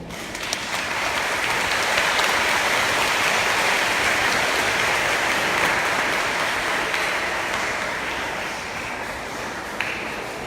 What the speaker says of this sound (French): Applaudissez vous-même.